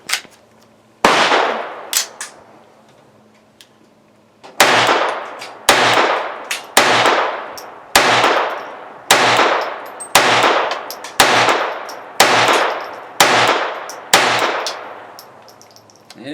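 Sig Mosquito .22 LR pistol emptying a magazine at an outdoor range: a shot, a pause, then about ten loud, sharp cracks in a steady, slightly uneven rhythm, each with a short ringing decay.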